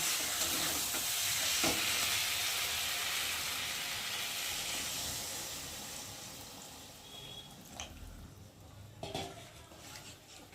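A ridge gourd and fish curry with potatoes is stirred in a pan, giving a steady sizzling hiss with a few scraping and clinking utensil touches near the end.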